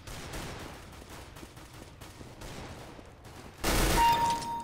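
Gunfire in the Counter-Strike (CSGO) video game crackles faintly in the background as a steady fusillade, then swells into a louder, denser burst near the end.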